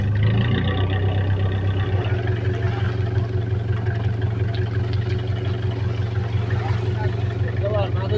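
A fishing trawler's engine drones in a steady, low, even hum with faint water and activity around it, while a voice talks over it throughout.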